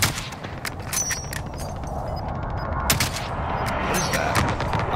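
Rapid gunfire in the Warzone battle royale video game, dense bursts of shots with a few sharper cracks over constant loud battlefield rumble, no talking.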